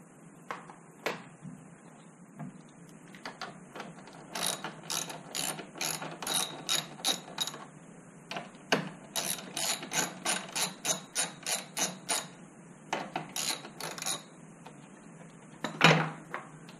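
A hand ratchet clicks in quick bursts of rapid strokes, pausing between runs, while loosening bolts on a Honda CRF250L motorcycle, close and crisp with a clank near the end.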